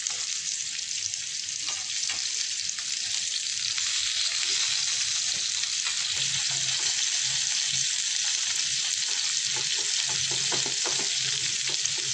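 Paneer cubes fry in a few spoons of oil over a medium gas flame for paneer chilli, a steady, close, even sizzle with occasional small crackles and no talking.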